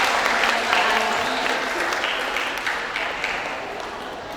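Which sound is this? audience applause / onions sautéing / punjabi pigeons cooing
audience applause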